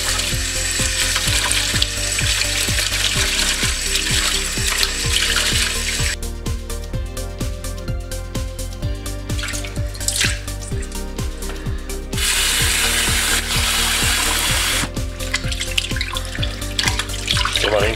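Sausage casings being rinsed by hand under running tap water in a sink, a steady close splashing stream with brief clicking and rattling of the tap, no talking.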